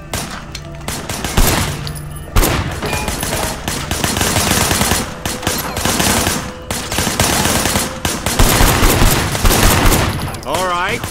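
Gunfire in Sleeping Dogs, loud bursts of automatic and single shots crackling repeatedly over game noise, with brief pauses between volleys.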